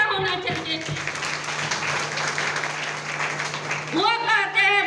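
A crowd at a company meeting claps for a speaker, a busy spread of hands filling the middle, with a voice speaking over the start and again near the end under a steady hum.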